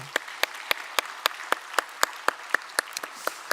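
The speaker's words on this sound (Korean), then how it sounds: "수고한 분들을 위해서 박수 한번 하겠습니다." A single pair of hands claps at a steady, even pace in a church during a Wednesday worship service, about a dozen crisp, evenly spaced claps sounding fairly close in a quiet room.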